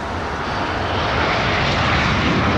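A Qantas airliner departing from London Heathrow, its broad engine roar loud and steady and slowly swelling across the whole clip, with no one talking.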